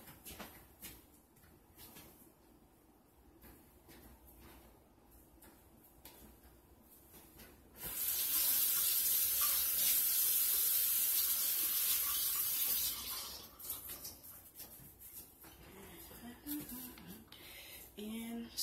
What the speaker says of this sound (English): So you pour water in this pot and